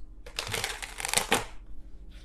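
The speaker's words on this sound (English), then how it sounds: "This deck does not want to like shuffle easily today for some reason." A tarot card deck is riffled loudly and close for over a second in a dense, crackling flutter that stops abruptly, leaving a faint rustle afterward.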